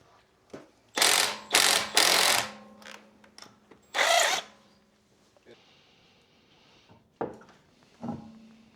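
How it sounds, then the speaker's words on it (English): A Milwaukee power tool spins off the wheel lug nuts on a 2006 Acura TSX, giving several loud, close bursts of whirring rattle about a second long, separated by quieter clinks and handling noises. "Now we get that wheel off. I'm a fan of Milwaukee tools."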